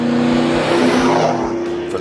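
A 2004–2008 Ford F-150 V8 fitted with a Flowmaster Force II cat-back exhaust with a Super 50 series muffler, roaring loud and close with a deep, steady exhaust drone that rises and settles as it revs.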